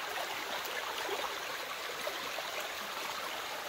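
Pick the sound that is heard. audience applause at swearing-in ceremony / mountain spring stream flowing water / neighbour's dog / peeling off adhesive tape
mountain spring stream flowing water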